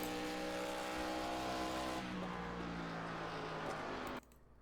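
A race car engine roars steadily through a qualifying lap in the iRacing game on Rockingham, loud and sustained with a falling pitch shift midway, then abruptly cuts to quiet near the end.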